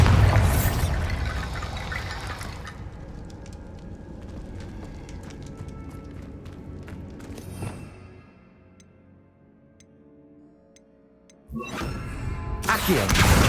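A Bombarda explosion spell in Hogwarts Legacy sets off a loud, booming blast that rumbles and fades over several seconds, then a second heavy burst hits near the end, with no talk.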